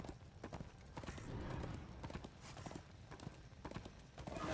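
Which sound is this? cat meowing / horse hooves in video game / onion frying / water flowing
horse hooves in video game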